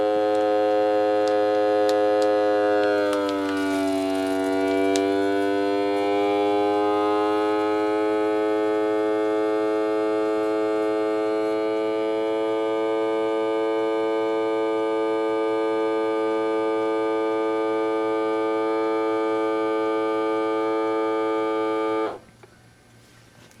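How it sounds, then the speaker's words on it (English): A Keenray vacuum sealer machine running with a steady harmonic motor hum that dips in pitch early on as it pulls the bag down, holding for about twenty seconds before cutting off abruptly, with no talk. "Hit vacuum seal."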